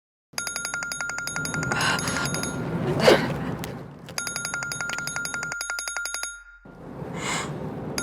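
A telephone rings with repeated electronic trills in a home during a domestic drama, a loud patterned ringtone that pauses briefly before sounding again, with no talk over it.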